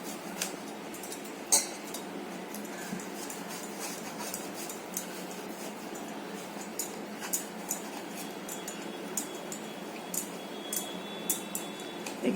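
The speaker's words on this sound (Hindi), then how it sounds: "अब इसमें मैं बॉइल्ड आलू ऐसा इसमें मैं ग्रेट करके डाल रही हूँ।" Boiled potato grated into a fish cutlet mixture in a home kitchen, giving soft, steady scraping with scattered light clinks of metal utensils against a dish throughout.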